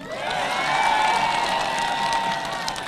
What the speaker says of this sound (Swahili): Huyo apigue makofi mzuri.